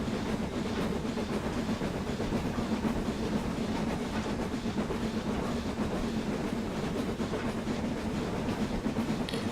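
Steady rumbling and rhythmic beat of a BR 9F steam locomotive under way in a train simulator game on Scottish western lines, continuous loud rolling noise with faint clickety-clack and hiss.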